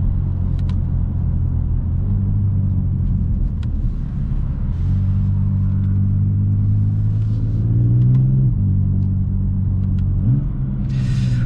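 A BMW M4 Competition with an M Performance exhaust rumbles loudly and steadily from close by, with deep engine drone and several gear-change shifts in pitch while driving.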